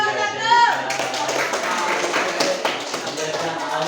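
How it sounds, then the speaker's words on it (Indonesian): An audience at an Indonesian school event applauds contestant number 1, with a burst of light clapping and taps that continues for a few seconds beneath a speaking voice. "aplaus untuk nomor 1"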